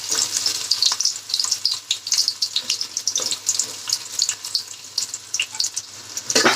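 Chopped garlic and onion hitting hot oil in a heated cooking pot, a loud steady sizzle and crackle with bursts of spattering, close by with no talk.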